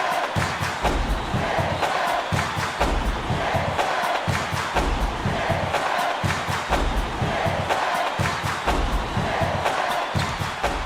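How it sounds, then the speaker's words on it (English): Basketball arena crowd in the College Basketball 2K8 video game, a dense roar of cheering that holds steady throughout with rhythmic thumping underneath. "This crowd couldn't be any happier. Just listen to the people in this building."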